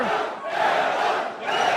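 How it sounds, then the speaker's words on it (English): Crowd at an arm wrestling match roaring and cheering, a loud sustained wall of yelling voices that dips briefly and then swells again. "You can hear the crowd. I hope you can hear the crowd at home."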